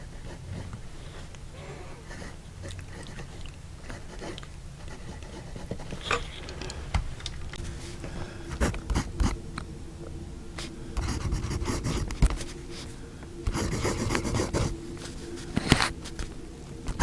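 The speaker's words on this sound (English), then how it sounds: "let's uncap it and put nib to paper" A Lingmo Lorelei 019 Sedumn fountain pen nib scratches and scribbles across paper, close and dry, in a run of short strokes with quick taps and pauses.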